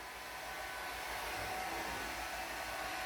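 A hair dryer blows continuously indoors, a steady close whooshing roar with a low motor hum that holds unchanged throughout.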